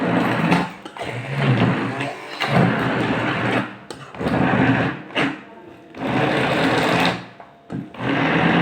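An electric mixer grinds harissa ingredients in loud bursts of steady whirring, about four long runs broken by short pauses, with no talking.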